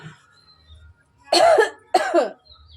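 Two harsh, close coughs from a person who is sick with a cold and sore throat, each a short loud burst separated by a brief pause in a quiet kitchen.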